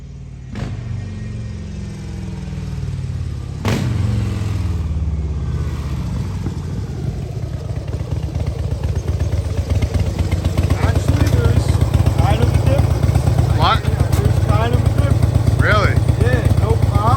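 A Harley-Davidson Dyna motorcycle engine fitted with a Vance and Hines FuelPak idles with a low, steady rumble, then revs up and holds a louder, throbbing drone near the listener, with people talking underneath.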